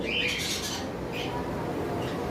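A lovebird gives a sharp, loud squawk near the start and fainter calls after it, over a steady background hiss.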